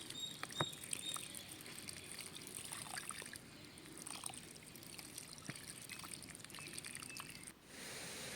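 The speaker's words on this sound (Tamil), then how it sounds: "உயிர் தண்ணி ஊற்றிக்கலாம்." Water poured from a container onto brinjal seedlings planted in soil-filled grow bags gives a faint, steady trickle with scattered soft patters and drips, quiet and close, with no voices.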